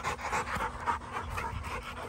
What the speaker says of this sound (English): he sound like a 3-year-old dog when he start